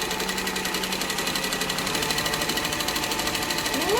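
A cylinder arm sewing machine stitching a business bag, a fast steady mechanical chatter of needle strokes running continuously, close and moderately loud.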